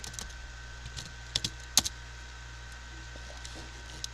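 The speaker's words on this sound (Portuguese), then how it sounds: "Dá um enter" A few scattered keyboard keystrokes, including a sharper, louder press near the middle like an enter key, sound close over a low steady hum.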